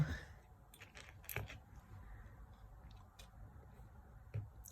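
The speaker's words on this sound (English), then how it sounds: "And I like these keys." Keys are handled during a craft project. Faint scattered metallic clinks and jingles come in a few short bursts against quiet room tone.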